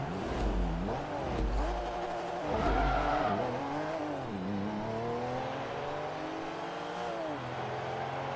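A Porsche engine in a Forza Motorsport 3 drag race revs and climbs through rising, sweeping engine notes, loud and steady throughout, with brief drops between shifts.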